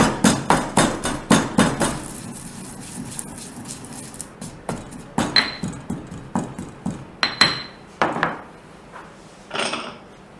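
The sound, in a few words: crushing poppy seeds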